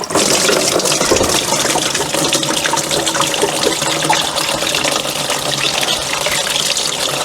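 Water rushes steadily through the engine water pump of the vehicle Hilda, a loud, continuous gushing hiss that holds the same level throughout with no voices.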